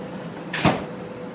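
Doors of a Las Vegas Strip tram sliding shut: one soft whoosh ending in a short dull thump, heard clearly against a low steady background hum.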